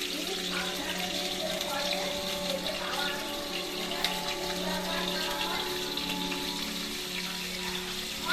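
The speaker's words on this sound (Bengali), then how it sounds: "কড়াটা একটু ধুয়ে দেবে" Water runs steadily from a kitchen tap while a wok is rinsed and scrubbed, a continuous close hiss and splash with faint clatter, and no clear speech over it.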